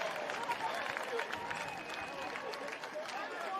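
Outdoor crowd clapping and cheering at halftime of a Highland Park Buddy Bowl buddy ball football game, a steady broadband wash of applause with scattered whistles and voices, moderately distant.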